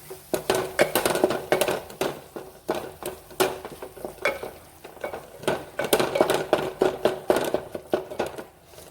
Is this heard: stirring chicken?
yes